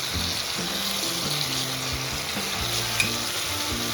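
Ginger paste and turmeric fry in a pan for a Bengali rui fish curry with cauliflower and potato. A bright, steady sizzle carries on throughout, with soft stirring scrapes and one sharp clink near the middle. Nobody speaks.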